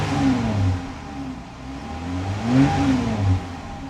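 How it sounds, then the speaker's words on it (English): A car running on its stock factory exhaust, revved in a few swelling pulses of moderate, fairly mellow engine note with pitch rising and falling, heard close without talk. "Here's the stock exhaust, and it's not that exciting."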